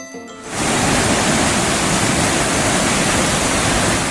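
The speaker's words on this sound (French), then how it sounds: "Cascade de Steindalfossen." Roaring Steindalfossen waterfall in Norway, a loud steady broadband rush of falling water that swells in after a brief quieter start and then holds constant, with no voices.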